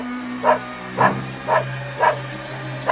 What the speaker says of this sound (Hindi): तुम पंडित जी की तरफ देखकर क्यों भौंक रहे हो?